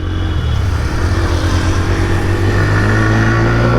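A 2023 TVS Raider motorcycle engine runs steadily up close, a loud, smooth low hum with a slight rise in pitch toward the end, no talking.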